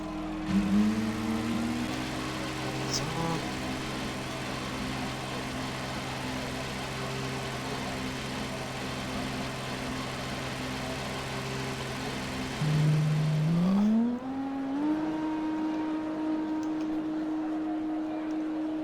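F2 racing cars in a British GP video game, a steady engine drone holding pitch with a sharp rise as one car accelerates near the end, then a single higher engine tone continuing alone.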